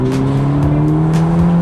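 Ferrari Roma Spider with a twin-turbo V8 pulling hard through first and second gear, a steady loud engine drone with clear rising harmonics, close and continuous, no voices.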